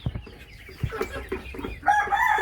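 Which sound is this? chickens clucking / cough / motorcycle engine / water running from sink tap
chickens clucking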